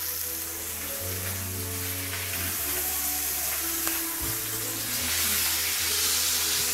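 Salmon fries in a pan with a steady, dense sizzle that stays loud and close throughout, broad hissing crackle and no talking over it.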